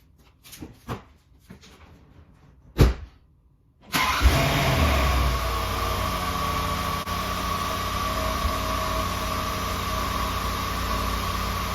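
A Land Rover LR4, just after a front lower control arm replacement, starts up. A few knocks and clicks come first, then the engine catches and settles into a loud, steady idle close by.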